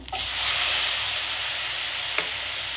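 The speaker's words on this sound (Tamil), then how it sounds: "சேர்த்துட்டு நல்லா வதக்கிட்டோம் இது வந்து நல்லா வதங்கணும் நல்லா குழஞ்சி வரணும்" Chopped tomatoes sauté in an oil pan for hotel-style rasam. A loud, steady hiss and sizzle bursts up at the start and holds, with one faint knock of a utensil near the end.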